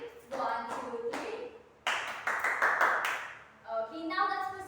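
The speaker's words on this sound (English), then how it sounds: "Let's give group 1 a rain clap." A classroom group does a rain clap, hands tapping from soft patters up to a fuller rush and back down, heard between an instructor's spoken counting.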